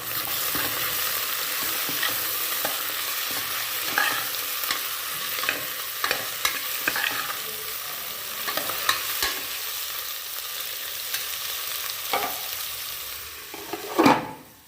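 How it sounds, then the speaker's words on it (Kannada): Tomatoes and onions frying in a pan for mutton sambar, a steady sizzle with frequent stirring scrapes and clinks throughout, and a sharper clatter near the end; no one speaks. "ಈಗ ಟೊಮೊಟೊ ಹಾಕಿ ಟೊಮೊಟೊನು ಚೆನ್ನಾಗಿ ಬೇಯಬೇಕು"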